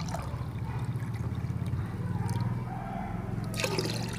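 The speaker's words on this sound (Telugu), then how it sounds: "ఇప్పుడు ఈ లిక్విడ్ ఫెర్టిలైజర్ని వాటర్లో డైల్యూట్ చేసి మొక్కలకి ఎలా ఇస్తానో మీకు చూపిస్తాను" Water poured into a container to dilute a homemade liquid plant fertilizer made from kitchen waste, a steady low trickle and splash running continuously at close range with no talking.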